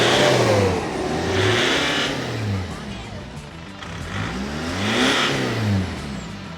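A car engine revs up and down repeatedly, rising and falling in pitch, loud and close, with a rough idle between revs.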